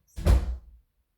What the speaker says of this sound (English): his door just slammed